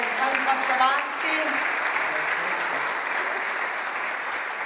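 An audience bursts into sustained applause, dense steady clapping filling the whole stretch, with a voice briefly speaking over it.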